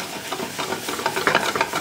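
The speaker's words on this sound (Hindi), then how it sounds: "अब हम मिला देते हैं चिकन कीमा, अच्छे तरीके से इसे भूनेंगे।" Chicken keema frying with onions in a pan, a steady close sizzle under repeated scraping stirs that come in an uneven rhythm and grow a little louder toward the end, no voices.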